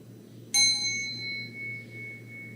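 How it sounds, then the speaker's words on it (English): Single strike of a mindfulness bell marking the end of a group meditation, a clear bright ding that rings out and slowly decays over a low room hum. "we'll use the sound of the bell to signal the transition from this inward focus to an outward focus"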